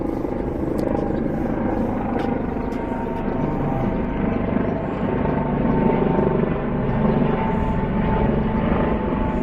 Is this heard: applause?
no